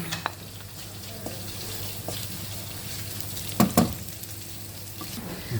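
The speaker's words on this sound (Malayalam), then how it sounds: "ഉള്ളി വഴണ്ട് നമുക്കിനി മല്ലിപ്പൊടിയും കുരുമുളകുപൊടിയും ചേർക്കാവേ." Onions frying in a pan with coriander and pepper powder stirred in for a Kerala fish curry, a steady low sizzle with a couple of brief stirring scrapes near the end.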